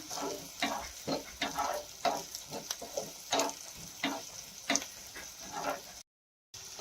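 Garlic and ginger fry in a pan, producing a soft, close sizzle broken by repeated light crackles and stirring taps, quiet overall with a brief cut to silence near the end.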